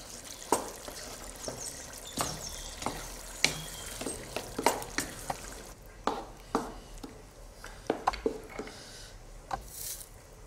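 Lasagna sauce simmering in a pot gives a soft bubbling, sizzling bed broken by repeated sharp clinks and scrapes of stirring, fairly close and moderately quiet.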